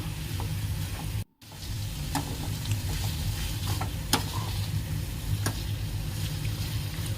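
Tomatoes with salt sizzle steadily in a hot pan while a spoon stirs them, giving a continuous close frying hiss with occasional knocks and scrapes and one brief dropout.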